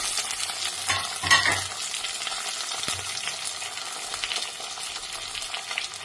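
Tomato and green chili fry in a pan for a tamarind prawn curry. A steady sizzle runs throughout, with a brief louder burst of frying or stirring near the start, and there is no talk.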